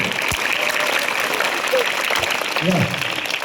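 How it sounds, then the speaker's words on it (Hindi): Applause from an audience at a school reading event, a broad steady patter of clapping with some background voices mixed in, continuous for a few seconds. "इनके लिए भी एक बार ताली हो जाए"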